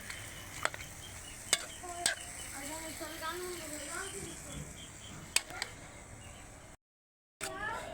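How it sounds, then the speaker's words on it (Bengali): Onions being sautéed in a pan, a soft steady sizzle with a few sharp ticks of a utensil against the pan, faint and close, with brief moments of speech-like tones and a short silent gap near the end. "এটা এখন কষাইতে থাকবো কষাইতে থাকবো পেঁয়াজগুলো"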